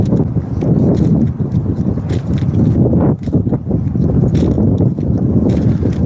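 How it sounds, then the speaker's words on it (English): Outdoors on a windy day, gusts buffet the microphone with loud, continuous low rumbling and thumping that rises and falls for the whole stretch, heard alone. "I'm sorry, it's a little windy out today again."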